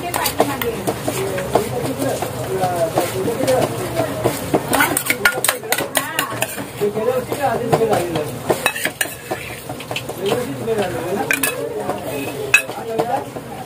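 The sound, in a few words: rubbing ginger-garlic-Kashmiri chilli paste onto bangda fish in a dish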